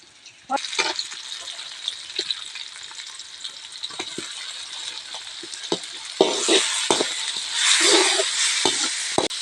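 Ground garlic sautés in a pan for a fish curry, a close, steady frying sizzle with occasional stirring scrapes, swelling louder and denser toward the end.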